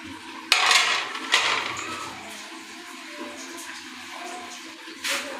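Strawberries, apples and bananas tumble into a mixing bowl with a few sharp clatters and knocks against the dish, followed by softer scraping and shuffling of fruit.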